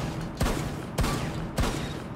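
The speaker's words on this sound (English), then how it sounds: "a shotgun that you all know and love, the M870. Hit fire, still two shot." An M870 shotgun fired from the hip in Rainbow Six Siege booms three times at an even pace, each sharp blast trailing into a short decay over a steady background rumble. No one speaks.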